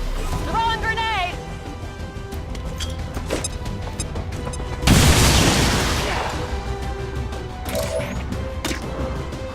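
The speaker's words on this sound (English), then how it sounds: "Throwing grenade!" A grenade explodes in XCOM 2 as one loud, heavy blast midway through, rumbling and fading amid busy game sounds and voices.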